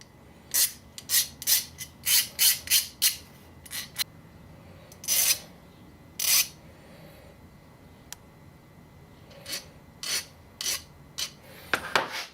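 A rifle part for a Saiga 7.62x39 AK conversion being tapered at one end with a file, in a close series of rasping strokes, some quick runs and some isolated, with pauses between and no talking.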